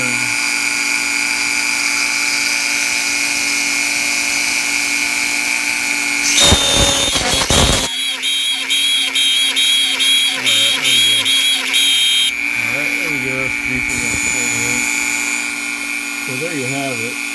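A Dremel rotary tool drills three holes in a small metal spring cap for a Quorn tool grinder base. It is a steady, loud high-pitched whine with a sharp burst of grinding partway through, and speech-like sounds run underneath.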